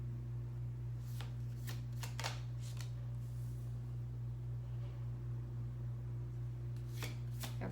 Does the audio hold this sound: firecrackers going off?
no